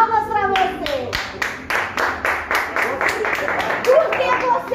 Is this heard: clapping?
yes